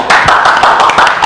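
Hand clapping at an award event for the best film in Central Java: several sharp, distinct claps in an uneven rhythm, close and loud, with no talk over them.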